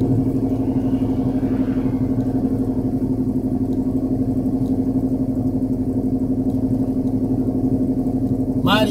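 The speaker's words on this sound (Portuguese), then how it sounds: "Vamos acelerando o carrão aqui." A car drives along highway BR376 near Marialva, Paraná, its engine a steady drone with a constant low hum and road noise, and a brief sharper sound at the very end.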